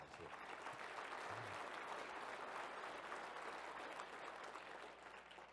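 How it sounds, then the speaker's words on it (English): Banquet crowd at a coaches' keynote gives a sustained round of applause, a continuous faint wash of many hands that tapers slightly toward the end. "Let's give them a round of applause."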